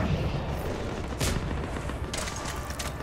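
Gunfire from the video game Mass Effect, with dense booming shots and impacts layered over a continuous rumbling battle din.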